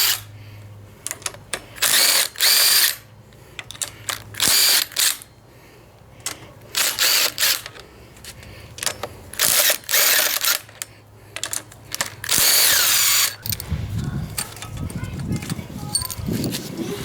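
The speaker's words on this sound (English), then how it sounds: "Gonna just loosen them up a little bit, and then we'll use the impact to take them completely off." An impact wrench zips off 14 mm bolts on a Honda Civic hatchback engine in repeated loud, buzzing bursts a second or two long, separated by clinks, with someone talking in between.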